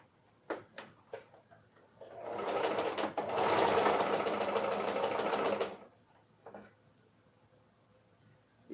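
A sewing machine stitches a straight seam on a tote bag in one steady run of about three and a half seconds, with a few soft clicks and handling taps before and after.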